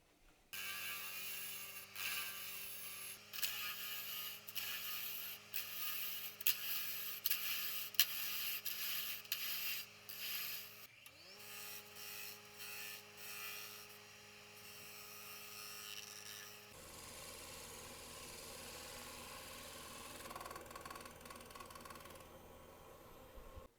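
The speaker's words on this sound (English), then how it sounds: "now we're just going to take off the waste wood we had that was underneath the glue block and finish this little bottom area" A wood lathe turns a square-edged Hawaiian milo wood bowl, taking off waste wood left under the glue block. A steady motor whine runs throughout with scraping cuts, then shifts to a rougher, broader tone near the end.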